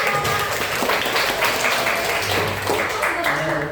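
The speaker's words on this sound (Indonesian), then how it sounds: "Oke, tepuk tangan buat kita semua" Students in a classroom break into steady applause, dense clapping that holds for several seconds at close range, with some voices mixed in underneath.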